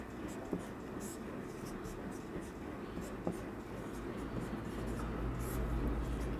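Pen scratching out a math equation on paper in short, faint strokes and taps, quiet and close, over a low background hum, with soft speech at times.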